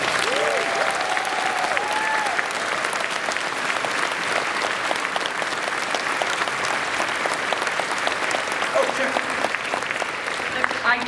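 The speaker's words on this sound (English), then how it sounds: "deserves its own round of applause" Long, sustained applause from a large convention audience at a furry convention's closing ceremony, a steady roar of many hands clapping, with a few scattered voices and whoops mixed in early.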